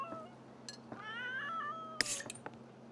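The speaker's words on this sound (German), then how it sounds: "warum miaust du denn schon wieder so theatralisch?" A cat in The Sims 3 meows in a drawn-out, theatrical way, with a couple of short mews followed by a longer wavering caterwaul, all quiet against steady background game music.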